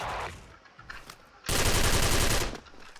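Rapid bursts of gunfire from a Spider XM8 rifle in the game Special Force, a short volley followed by a louder sustained stretch of automatic fire, with no talking.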